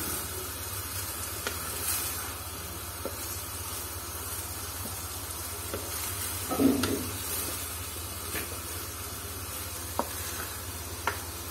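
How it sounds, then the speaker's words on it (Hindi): A pot of rainbow zarda sweet rice is stirred and mixed, producing a soft, low hiss and sizzle with sparse scraping clicks and one brief louder stir near the middle. "अब इनको अच्छी तरह मिक्स करेंगे।"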